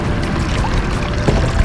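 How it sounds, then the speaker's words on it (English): Water pours and splashes off a fishing net full of bait, hauled partly out of the sea while fishing for jack crevalle and snook in Tampa Bay; a loud, continuous close rush of draining water. "let some of the water drain off the net, reduce some of the weight"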